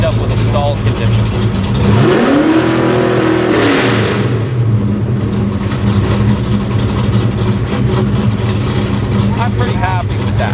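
A Ford Foxbody engine catches and flares up to a high rev just after starting, then drops and settles into a steady, even idle, heard close with a faint voice briefly over it.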